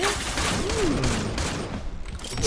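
Gunfire from the shooter game Point Blank rattles in a dense, continuous burst of rapid shots, with a brief whistling tone near the start and a louder surge at the end.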